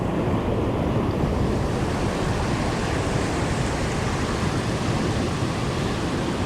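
Heavy ocean surf near a tuna fishing spot roars continuously, a dense, loud wash of breaking waves with steady wind noise on the microphone and no talking.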